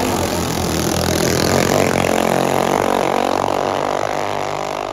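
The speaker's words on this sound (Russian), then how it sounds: "Двигатели тут от газона косилок" Loud, steady engine drone from homemade drag-racing boats powered by small lawnmower engines, a continuous buzzing roar lasting throughout with no break and no talk.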